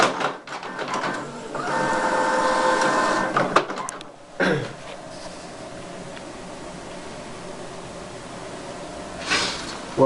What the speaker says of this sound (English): we will see how printer starts to work